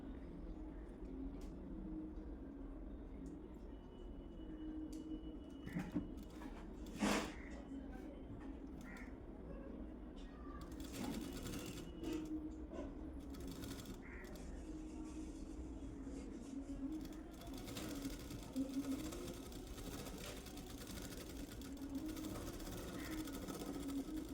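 A sewing machine stitches blouse pieces together in steady bursts of mechanical whirring, with a few sharp clicks and someone speaking at times over the running motor.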